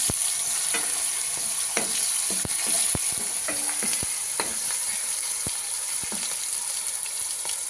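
Onion stirred and fried in a pan while making batata poha gives a steady, close sizzle, with the spoon scraping and clinking at irregular intervals.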